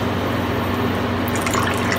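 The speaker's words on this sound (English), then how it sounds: "I'm going to add my heavy cream." Heavy cream pours into a pan for sausage gravy, a continuous wet, splashing trickle that carries on for two seconds without any talking.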